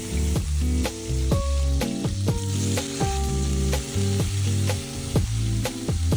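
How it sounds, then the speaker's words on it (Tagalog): Marinated pork slices frying in a pan, a steady loud sizzle with regular knocks and clatter of utensils over a bed of music-like tonal bands. "nag-marinate lang ako ng pork slices at pinrito ko lang"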